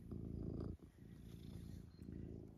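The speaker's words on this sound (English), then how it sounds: "Oops, here comes the cat." A house cat purrs close to the microphone, a soft low rumbling buzz that pauses briefly and resumes, quiet and steady.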